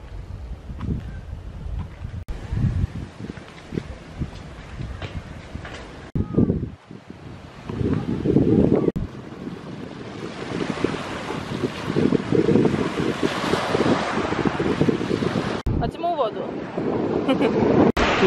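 Wind buffets the microphone along the Turkish seashore while waves wash in and break, a rough, surging roar that swells louder in the second half, with occasional voices nearby.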